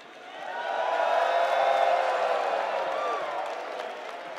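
A sustained crowd roar rises and holds at a Fatal Fury: City of the Wolves fighting game grand final, with cheering and whistles spread across the full stretch at steady loudness.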